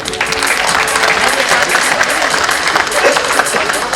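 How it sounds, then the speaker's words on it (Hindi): Dense, loud, continuous clapping from an audience at an artists' gathering fills the whole stretch, with crowd murmur and some voices mixed in. "वाह यार तालियां बजाइए"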